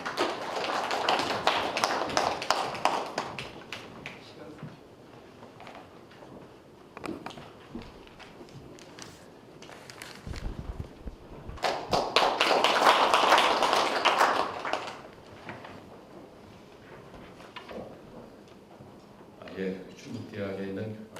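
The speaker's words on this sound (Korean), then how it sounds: "네, 박수로 맞아주시기 바랍니다." Audience at an academic conference on the Donghak Peasant Revolution applauding to welcome a presenter, bursts of dense clapping rising and falling with a brief pause between, followed by the speaker beginning to talk.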